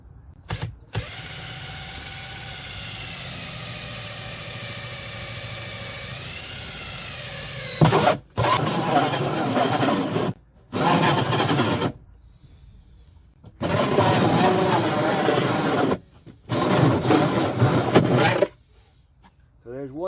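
A power drill with a 4-inch hole saw cuts a hole in the side of a plastic sump pit. Loud, close grinding whine comes in several long bursts separated by brief pauses, and the pitch shifts as the saw bites.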